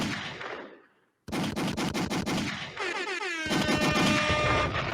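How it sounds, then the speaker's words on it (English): Sound effects played back: a blaring air horn followed after a short gap by rapid bursts of gunfire, loud and close, then a layered cacophony with sustained tones. "an air horn is just an air horn"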